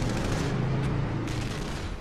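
Continuous dense rumble of gunfire during the North Hollywood shootout in Los Angeles, a steady loud barrage with no clear gaps between shots, no voices.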